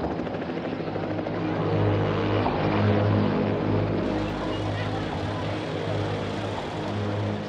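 A helicopter's rotor thumps steadily with a droning engine hum, loud and close, in archival footage of evacuations from Saigon during the Vietnam War, as a voice talks over the noise.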